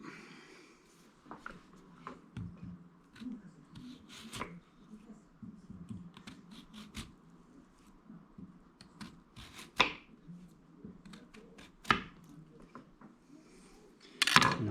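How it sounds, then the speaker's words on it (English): A knife slicing washed, scrubbed whole potatoes into thin hasselback cuts on a wooden surface, beside an antique wood cookstove; a series of soft, close, irregular cutting taps and thuds, with a few sharper knocks. "So you're just going to cut down and you're going to make small little slices like this"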